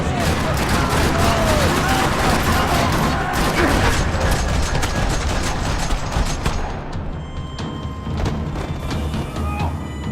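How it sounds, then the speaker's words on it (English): Sustained loud gunfire rattles through a parking lot in the Max Payne 3 video game, dense overlapping bursts of shots filling the whole stretch and thinning slightly toward the end. "Another parking lot rattling with gunfire."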